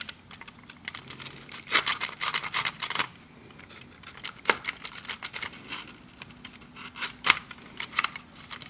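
Scissors cut a small square out of paper for an Operation game, a series of close crisp snips and crinkles coming in irregular bursts with short pauses between them, with no voices.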